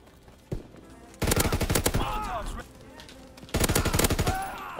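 MG15 machine gun fired from the hip in the World War II shooter game Call of Duty: WWII, two loud rapid-fire bursts separated by a short pause, with a single earlier shot.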